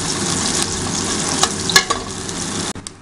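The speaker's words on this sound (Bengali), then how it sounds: "এবারে জিনিসটাকে নাড়ানো হচ্ছে, জিনিসগুলো যাতে একটু ভালোভাবে ফ্রাই হয়ে যায়" Chopped ingredients with garlic sizzle steadily in hot oil for khichuri. A spoon stirs through them, adding a few brief scraping clatters near the end.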